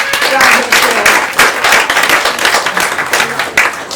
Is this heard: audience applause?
yes